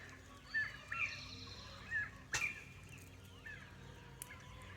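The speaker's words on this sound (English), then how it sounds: "You can hear the bobwhite quail in the back." Northern bobwhite quail calling faintly in the distance behind a greenhouse during planting, several short whistled calls spaced a second or so apart over quiet background noise.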